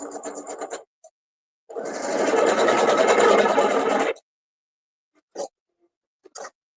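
A sewing machine stitches fabric in a brief burst, then in a steady, close whirring run of about two and a half seconds, followed by a few short clicks and taps.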